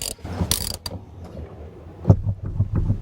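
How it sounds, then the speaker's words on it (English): A ratchet wrench loosening bolts on a car seat in a BMW E90, giving a few short, close clicking and creaking bursts with pauses between them. "I am going to loosen this bolt and this bolt."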